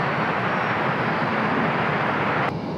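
A jet aircraft powers up for takeoff on runway 30, a loud, steady broadband engine roar that holds throughout and drops slightly just before the end, with no voices.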